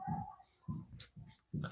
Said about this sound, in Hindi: जैसे हम यहाँ देखिए एक सेंटेंस लिखते हैं